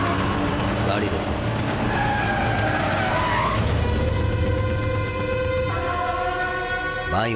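A car braking hard to a halt with a skid on a road, tyres screeching briefly near the end over steady engine and background noise with music.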